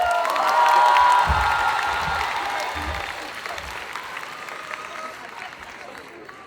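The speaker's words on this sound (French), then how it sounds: "Alors on applaudit bien fort" A crowd at a cosplay contest during the Japan Addict Z convention applauds and cheers, loud at first with whoops and shouts, then slowly thinning out as the clapping fades over several seconds.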